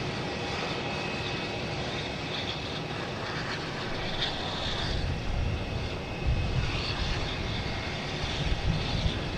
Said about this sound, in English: Now we have Lufthansa A340 and the A380's taking off.